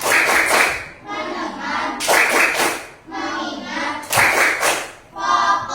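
A class of students performs the tepuk fokus clapping chant: three loud bursts of fast rhythmic clapping, each followed by children chanting words together, repeating in a regular cycle.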